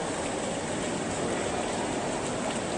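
Water fountain in a gallery of the Victoria & Albert Museum in London, a steady broadband splashing rush that stays constant and fairly loud throughout with no talk over it.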